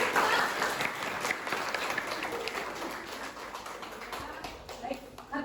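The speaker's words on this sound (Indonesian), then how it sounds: "tepuk tangan." Applause from an audience at an Indonesian lecture on pharmacy analysis methods, a steady spread of clapping lasting several seconds at moderate distance, slowly thinning toward the end.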